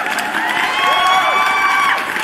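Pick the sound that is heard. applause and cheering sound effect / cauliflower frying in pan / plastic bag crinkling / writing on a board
applause and cheering sound effect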